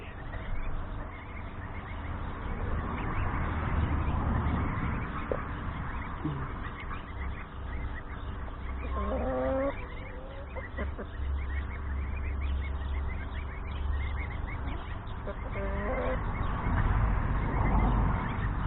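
Young goslings grazing in an open pasture, thin calls and honks scattered over a steady outdoor background noise, moderately distant, with a few clearer cries in the middle.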